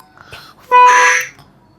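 A toy animal-sound trumpet blown to imitate a duck gives one loud, bright honking burst of about half a second, preceded by faint rustling and softer noises.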